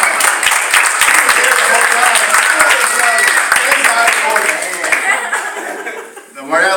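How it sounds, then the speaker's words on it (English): Loud crowd applause with scattered laughter, steady clapping that thins out toward the end, with voices mixed in. "We should be applauding Kim"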